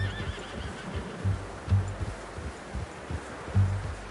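A horse in the Red Dead Redemption II video game gives several whinnies and snorts over soft hoof clip-clops and rustling, with no talking.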